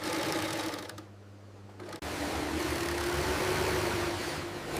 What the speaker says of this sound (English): Skilled hands and machines work together to stitch the shoe's upper.